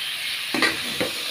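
Cabbage frying with turmeric, cumin and coriander powder, under a constant soft sizzle broken by two brief scraping stirs of a spatula against the pan.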